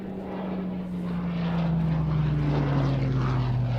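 A Hawker Hurricane propeller fighter flies past at the Waddington Airshow, its piston engine a steady, loud droning roar with a slowly falling pitch as it passes, under no talk.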